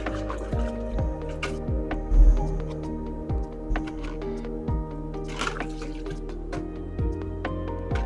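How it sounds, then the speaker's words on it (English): Medical instruments are rinsed in a bucket of plain water, with splashing, sloshing and dripping sounds and occasional clinks of metal, close and steady throughout. "we immerse all our instruments in a bucket of plain water"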